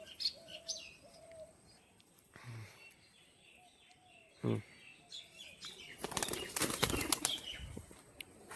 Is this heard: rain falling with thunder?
no